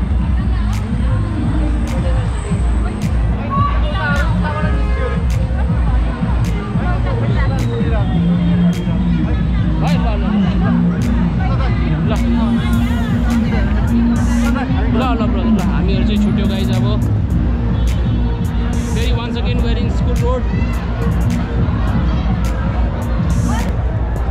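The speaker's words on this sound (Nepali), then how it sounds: "नागपुर रोड का भीड़ है ना वन ऑफ द बिगेस्ट भीड़ है" Dense crowd hubbub on Nagpur road in Hetauda during Holi, a steady loud babble of many voices with scattered shouts and occasional vehicle noise, continuing throughout.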